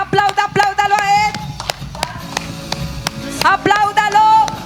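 Congregation clapping along in rhythm during a Spanish-language church worship service, sharp claps cutting under strong singing or music with a held melodic line.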